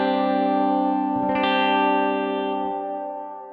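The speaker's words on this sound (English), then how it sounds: "I have it on a really long decay because if I'm using reverb at all, it's probably because I'm doing something ambient" A guitar chord rings out through a reverb pedal set to a long ambient decay, sustaining smoothly for several seconds with one quick strum in the middle before slowly fading, with no talking.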